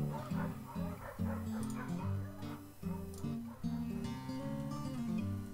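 Puppy in the Dogz video game, heard as repeated yips and whimpering whines set over a bouncy tonal game soundtrack, with the dog sounds fairly close.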